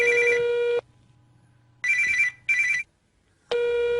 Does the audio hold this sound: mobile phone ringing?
yes